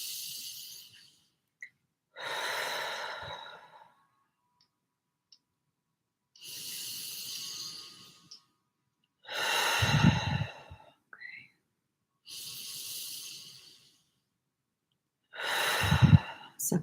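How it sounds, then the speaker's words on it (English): Deep, slow breaths during a guided meditation: soft, airy inhales and longer exhales come in separate waves every few seconds, a few exhales heavier and fuller, with near silence between them and no talking. "So just take 3 deep breaths."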